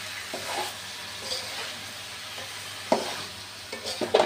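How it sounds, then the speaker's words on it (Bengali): Malabar spinach (pui shak) and its seed clusters frying in a pan with chili powder, turmeric and cumin, a steady soft sizzle broken by a few sharp stirring scrapes and clinks, close by with no talking. "পুঁই শাক আর পুঁই শাকের ডিম রান্না করছি।"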